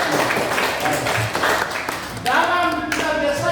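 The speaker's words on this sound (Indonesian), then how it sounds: "tepuk tangan dulu untuk teman-teman" Classmates in a school classroom clap together, a short burst of applause that fades out while a teacher's voice talks over it.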